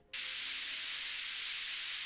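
A burst of bright, hissing high-pass filtered noise with the low end stripped away starts abruptly and holds steady, sounding thin and airy like static.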